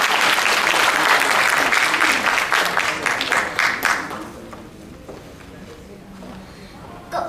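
A school audience at a children's Taiwanese-language speech contest claps loudly and densely, then the applause thins and fades out, with a sharp sound at the very end.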